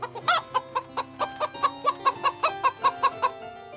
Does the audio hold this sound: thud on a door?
no